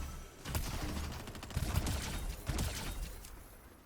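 A grenade launcher fires repeatedly in the video game Prison Escape 2, giving a series of dull thumps and blasts at moderate level over a steady background rumble.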